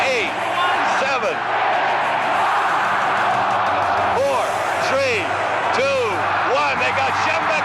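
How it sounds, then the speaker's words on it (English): A college football stadium crowd roars as Michigan upsets Ohio State, a dense sustained wall of cheering and whooping throughout, with an announcer's voice talking over it. "Listen to the crowd go wild."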